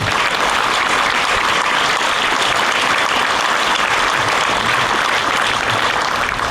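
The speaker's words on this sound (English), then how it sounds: "can we get a round of applause for our mayor?" A crowd at an outdoor Flag Day monument dedication and ribbon cutting in Batavia gives the mayor loud, sustained applause, a thick, even roar of many hands that never lets up.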